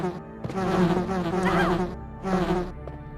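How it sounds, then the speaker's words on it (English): Swarming bees in the Resident Evil video game on Sega Saturn, a loud, close, droning insect buzz that swells in two bursts with a brief dip between them. "Too many damn bees"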